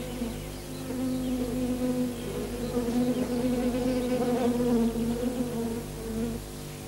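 Honeybees marked with yellow paint arrive at a feeding plate, their wings making a close, continuous buzzing drone with layered overlapping tones that swell slightly in the middle and fade at the end.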